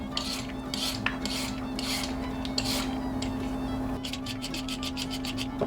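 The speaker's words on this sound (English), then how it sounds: "I'll start with the carrots. Gonna just give them a quick peeling." Carrots get a quick peeling with a vegetable peeler while making three bean chili, a series of short, close scraping strokes in a brisk rhythm that speed up into rapid repeated swipes toward the end.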